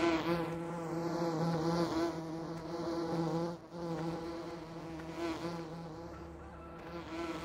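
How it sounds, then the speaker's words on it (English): Bees swarm out of hives on a farm in Farming Simulator 2013, a dense, steady insect buzz with wavering pitch that holds throughout, loud and close with no other sounds. "See there, all the bees coming out."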